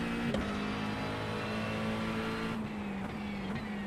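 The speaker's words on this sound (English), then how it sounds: "Here come the LMP2s." LMP2 prototype race cars in iRacing at Road America during an IMSA endurance event, a steady engine drone holding one pitch with brief swells as cars pass, continuous and fairly close.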